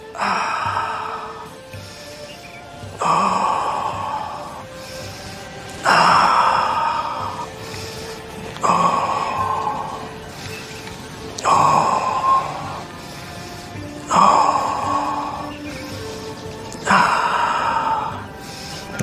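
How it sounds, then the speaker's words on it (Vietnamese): Slow rhythmic breathing during a hand-swinging health exercise, in through the nose and out through the mouth, repeated about seven times in even, drawn-out cycles, close and clear without talk. "hít mũi này thở miệng"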